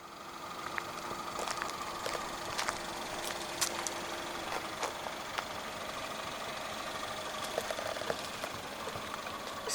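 A 2017 Peugeot 508 with a 1.6 THP petrol engine idles steadily just after start-up, a smooth even hum heard close and alone, with a few faint clicks and ticks over it.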